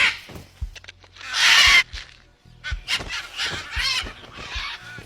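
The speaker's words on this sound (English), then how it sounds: "Over a dozen species of parrot jostle for space." Over a dozen parrot species call while jostling to feed in a forest, with loud overlapping squawks and harsh honking cries in irregular bursts near at hand.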